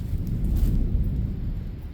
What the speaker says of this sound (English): We've got a thunderstorm going on right now.